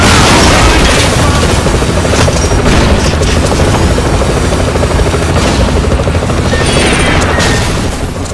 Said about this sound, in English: This 3rd time you'll have the helicopter and these missiles coming from below pretty much non-stop.